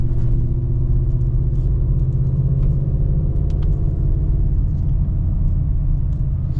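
A Ford Super Duty gasoline pickup tows an excavator uphill in low gear, its engine a loud, constant deep rumble and drone heard from inside the cab, labouring without letup.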